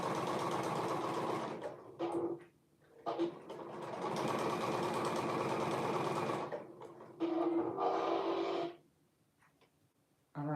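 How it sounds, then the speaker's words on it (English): A sewing machine runs in steady bursts while stitching fabric against a garment facing, with loud continuous whirring broken by short pauses and restarts. "I am sewing it against the facing."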